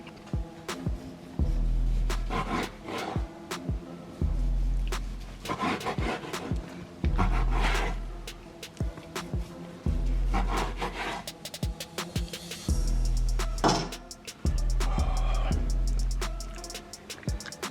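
A knife saws through smoked brisket with well-rendered fat on a wooden board, giving repeated soft scraping and rubbing strokes with a few firmer knocks, close by and without talk.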